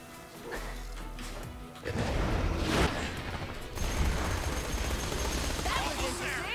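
Shock SMG gunfire from the Borderlands video game comes as dense, loud automatic bursts with impacts and crashes, layered over game effects and a running background score.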